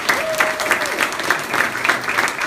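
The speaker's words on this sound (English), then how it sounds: "So please give a warm round of applause for Professor." An audience applauds a professor with a sustained burst of clapping that stays fairly loud and even throughout, with a brief tonal squeak near the start.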